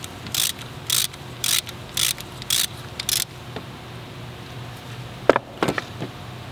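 A hand ratchet clicks in six short, evenly spaced bursts while snugging bolts on a VW engine during timing belt and chain work, followed by a couple of metallic knocks, close and clear with no talk.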